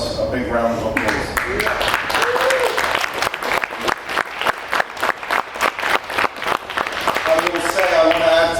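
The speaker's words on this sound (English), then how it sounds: "I think that deserves a big round of applause." Applause from an audience at a post-fight boxing press conference, a dense wash of many hands clapping steadily for several seconds, loud and close, with voices talking over it at the start and end.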